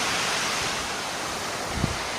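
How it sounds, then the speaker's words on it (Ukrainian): Sea waves breaking during a small storm at Koblevo beach on the Black Sea, a loud continuous surf roar with wind buffeting the microphone and one brief thump near the end. "Сьогодні у нас такий міні-шторм."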